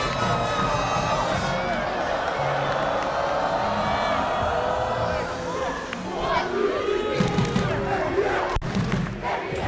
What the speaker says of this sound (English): The NDL Ultras making noise at the start of that game.